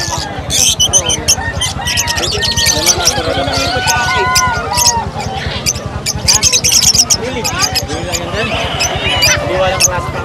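Small caged birds at the Bocaue pet market chirp and squawk in rapid, busy bursts, close and loud, over a steady rhythmic low thumping and market babble.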